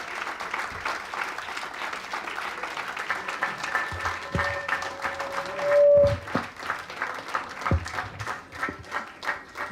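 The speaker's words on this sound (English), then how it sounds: "The artists truly deserve a huge round of applause." Audience applause rolls on steadily after a devotional performance at a literary festival, a dense even wash of clapping at middle distance with a faint steady tone beneath.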